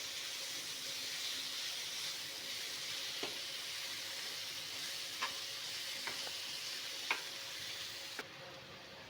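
A spinach, potato and pea sabji is mixed in a pan over a steady, soft sizzle, with a few sharp spoon taps and scrapes spaced through it. The sound stays fairly quiet throughout and no one speaks.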